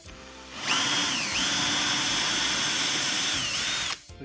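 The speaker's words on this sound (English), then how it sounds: "let's drill a hole in the center." A power drill whines steadily for a few seconds as it bores into wood, its pitch dipping briefly twice under load, close and loud.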